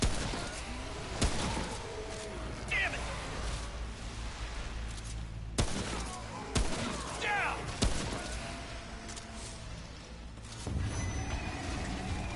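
Gunfire from a hunting pistol in the video game Remnant: From the Ashes, several sharp shots spaced irregularly over a dense, loud game soundscape of rumbles and effects.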